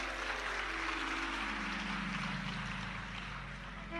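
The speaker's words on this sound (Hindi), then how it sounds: "ताली बजाने से कुछ नहीं होगा" Steady dense clapping from an audience fills the stretch at an even, sustained level, a broad wash of hand claps with a low hum underneath and no clear voices on top.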